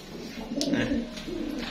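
Low, throaty cooing of two pigeons fighting, close and fairly soft, with a brief flutter partway through.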